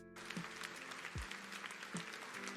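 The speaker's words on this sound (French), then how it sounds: "Même eux, ils applaudissent un peu sans conviction." Audience at a political speech applauding half-heartedly, thin, scattered clapping of moderate level with a few low thumps.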